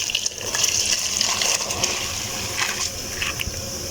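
Rice poured into boiling water in a pot gives a soft steady rushing and bubbling wash, moderately near and continuous throughout, with no talking.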